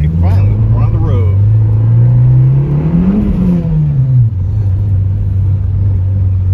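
Inside a turbocharged, 2AZ-FE engine-swapped Subaru BRZ driving on the road, a loud steady engine drone rises briefly in pitch, then settles back to a smooth cruise.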